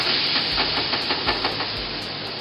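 Ground gravy for butter chicken hits hot melted butter in a pan and sizzles with a loud, steady hiss marked by rapid spitting crackles.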